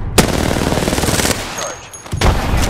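Rapid automatic gunfire in the Apex Legends battle royale shooter, a loud, dense, continuous burst of shots close up, with sharp impacts near the start and end and a brief high tone in the middle.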